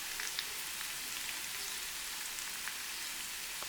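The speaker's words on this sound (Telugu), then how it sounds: "వేసేసుకొని దోరగా వేపుకోవాలి, లో ఫ్లేమ్ మీద వేపుకోవాలి" Ingredients for an egg and drumstick curry fry in a pan over a low flame, giving a steady, soft, even sizzle. Faint crackles and pops are scattered through it from start to finish, with no voices.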